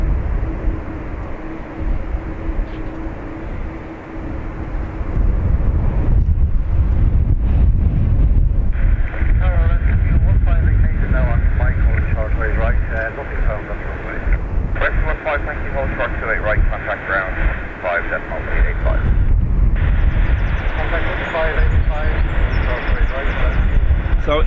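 An Airbus A320 jet powers up for takeoff from runway 28 right at Dublin Airport, its engines building into a loud, sustained roar heavy with wind buffeting, while people talk throughout.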